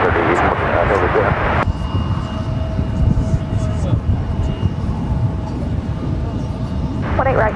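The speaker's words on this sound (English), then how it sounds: "Avianca, flight 441, heading to San Salvador in at A320neo" A steady, loud roar from an Avianca Airbus A320neo jet airliner at Dallas-Fort Worth airport, sustained broadband rumble with a faint whine, with voices talking briefly at the start and end.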